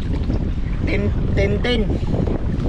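Strong wind buffets the microphone with a constant low rumble and rushing roar, while a person speaks briefly over it.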